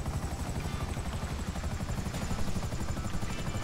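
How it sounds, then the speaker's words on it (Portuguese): A helicopter in the video game GTA 5 gives a steady, loud rotor chop and engine whine, heard up close from inside the cabin, with no talk over it. "Eu tô dentro do helicóptero aqui, ó."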